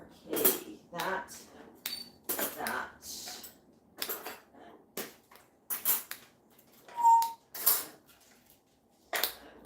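Cutlery is unloaded from a dishwasher in bursts of clinking and rattling metal, sounding close and moderately loud, with short pauses between handfuls.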